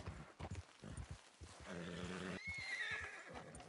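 A horse whinnies loudly in a drawn-out, shaky neigh, preceded by a few soft hoof thuds and snorts close by, in the video game Red Dead Redemption 2.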